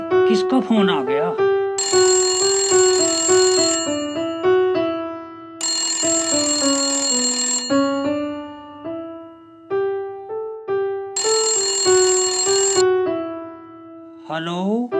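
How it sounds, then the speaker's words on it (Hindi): A mobile phone ringtone plays loud and close as a repeating electronic melody with bright sustained chimes, running continuously for the whole stretch. "अरे भाई किसका फोन आ गया?"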